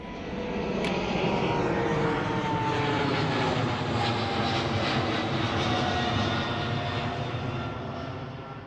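A fixed-wing aircraft engine drones steadily at Bournemouth Airport in the south of England, a loud continuous roar holding level throughout with no voices.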